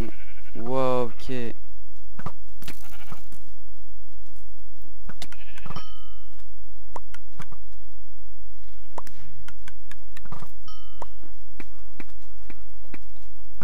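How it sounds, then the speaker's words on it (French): A sheep bleats in Minecraft during a Mineplex SheepQuest match, as one loud wavering bleat near the start followed by clicks and short game effects. A player's voice is also present. "il y a un petit mouton au centre, j'y vais"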